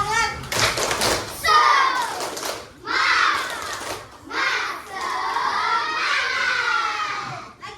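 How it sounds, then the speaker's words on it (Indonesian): Children in a combined grade 4 and 5 classroom chant the tepuk semangat clapping cheer together, loud, close voices mixed with sharp rhythmic hand claps in short bursts and brief pauses. "Ada yang tahu tepuk semangat? Nah, oke. Lakukan ya."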